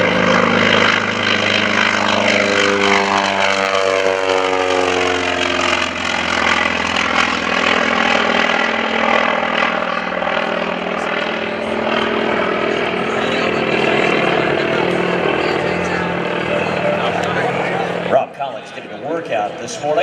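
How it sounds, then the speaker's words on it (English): Grumman FM-2 Wildcat propeller fighter at a Rhode Island airshow, its radial engine roaring loud during takeoff with a sweeping, shifting drone as it passes, then a sudden drop near the end. "Let's listen in to the sound of the engine and the mighty Grumman FM-2 Wildcat."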